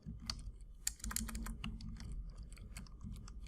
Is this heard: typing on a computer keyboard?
yes